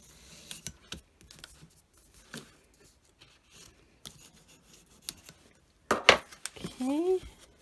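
Scissors snip through a small paper book in a few sparse, close cuts, with a brief voice breaking in near the end.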